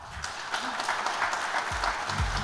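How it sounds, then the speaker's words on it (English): Audience applause for Dr. Mickey Mehta at a health event: steady, sustained clapping from a crowd filling the room, even and continuous throughout with no voices standing out. "So please, ladies and gentlemen, give a round of applause for Dr."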